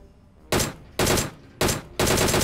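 Four loud, sharp gunshot bursts in PUBG, evenly spaced about half a second apart, each a dense broadband crack with a brief tail, close and alone with no talk.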